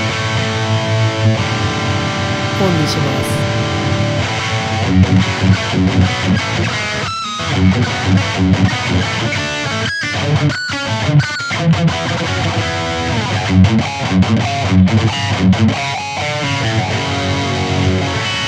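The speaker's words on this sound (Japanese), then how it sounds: "ブルースドライバーちょっと足してみます。" Electric guitar played through a BOSS GT-1000 processor's AIRD amp model with added Blues Driver distortion: a loud, continuous driven tone with ringing chords and sustained notes, briefly pausing between phrases.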